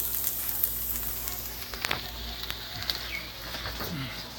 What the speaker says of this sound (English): my chicken down there, it's starting to sizzle a little on the edge